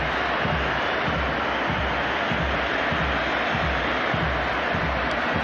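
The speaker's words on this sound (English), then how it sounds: "Time for Lionel Messi to take his own personal round of applause." Football stadium crowd at an Argentina vs Spain match applauding Lionel Messi, a dense, steady roar of clapping and cheering from a huge crowd, continuous and loud throughout.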